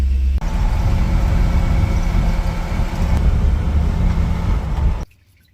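A Chevrolet El Camino with an old Rochester Quadrajet carburetor driven down the road under load, its engine a steady, loud broadband rumble for about five seconds before cutting off abruptly.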